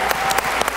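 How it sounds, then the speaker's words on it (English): A brief burst of audience clapping at a celebrity science show about adaptation challenges, a few scattered claps rising over room noise. "Give him a clap."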